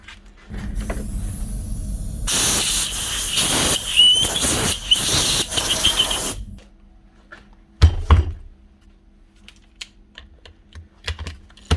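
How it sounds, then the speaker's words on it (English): A loud hissing blast of compressed air blows dust out of holes in a Refina mixing drill for several seconds, with rattling clicks and knocks, then stops, leaving scattered taps and a brief thump. "give them holes a blow out with the compressor to get rid of all the dust"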